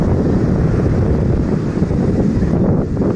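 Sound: sea waves and wind at a beach

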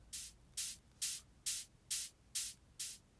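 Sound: short high-passed white noise burst from Serum synth

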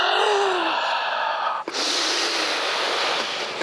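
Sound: breathing in during a voice exercise

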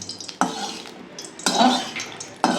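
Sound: oil being spread around a hot kadai

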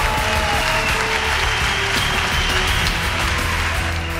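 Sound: applause from the crowd

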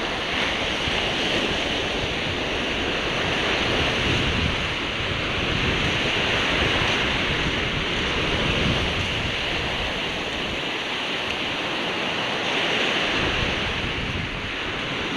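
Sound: sea waves on a beach

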